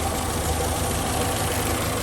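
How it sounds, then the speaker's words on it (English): The A-series engine of a restored 1968 Morris Traveller idles steadily, a close, even low chuntering burble with a slight knocking pulse and no talk over it. "there's its little A series engine, just chuntering away"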